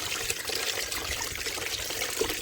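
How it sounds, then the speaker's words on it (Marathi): Clean water pouring and trickling over a raw mango as it is washed, a steady splashing flow running alone and close for a couple of seconds. "आता आंबा मी स्वच्छ पाण्याने धुवून घेते"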